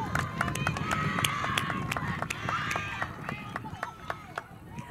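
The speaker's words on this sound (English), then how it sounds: "Let's give her a round of applause." Audience clapping at a middle school moving-up ceremony, a steady patter of many hands at moderate distance with crowd murmur and a voice heard underneath.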